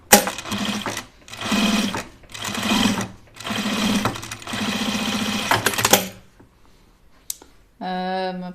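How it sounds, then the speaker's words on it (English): A sewing machine top stitching fabric for an oven mitt runs in several steady whirring bursts separated by short pauses, then stops, followed by a brief mechanical click and a short tone. "And I'm going to top stitch them."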